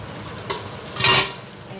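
Pakbet vegetables cook in a pan on a stovetop with a soft, steady sizzle. A brief clink comes first, then a louder burst of hissing and stirring swells for a moment before it settles.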